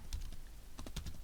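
A computer keyboard is typed on in a short run of quick, close key clicks, a few taps spaced irregularly with no talking.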